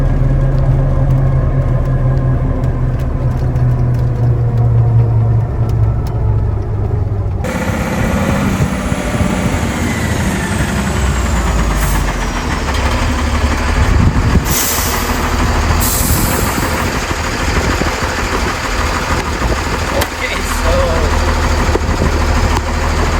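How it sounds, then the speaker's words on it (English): KamAZ 6x6 truck engine running while driving, a loud continuous low rumble with steady road and cab noise, plus a brief burst of higher hiss partway through. "I would never want to go over 85 in a KamAZ probably, especially since this truck is a 6x6."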